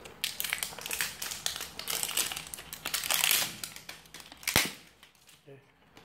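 A plastic flap being pried open on a tub of Scivation Xtend BCAA powder, heard as close, quiet snapping clicks and crinkling crackles in quick irregular bursts, ending in one sharper pop.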